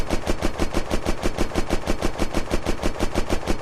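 A vehicle-mounted gun in the Unturned video game fires in a rapid, even automatic burst, about eight loud shots per second, close and unbroken throughout.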